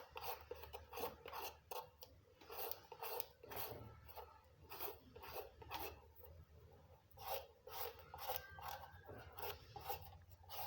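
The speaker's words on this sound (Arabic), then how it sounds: "هاي حفر القرع ما بده شيء نهائيا. طبعا بالبشاره" Repeated rasping scrapes in quick, uneven strokes as a peeler hollows out the inside of a squash for stuffing, close and steady with no talking.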